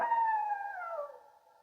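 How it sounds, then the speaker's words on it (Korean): A single long wolf howl from far off slides downward in pitch and trails off as it fades, heard alone in silence. "멀리서 늑대 울음소리가 들려왔어요."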